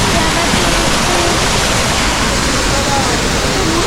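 An indoor waterfall at a Bass Pro Shop in Memphis sends up a steady, loud, broadband rush of falling water that holds constant throughout with no break.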